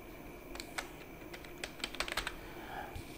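Typing the word 'python' on a computer keyboard: a short run of light, irregular key clicks over a quiet background, close and clear, with no talking.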